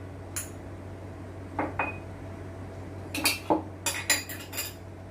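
Spoon stirring flour, a pinch of salt and a spoonful of yeast in a bowl: quiet scattered clinks and scrapes of metal against the dish, a few isolated at first, then a quicker cluster of taps near the end.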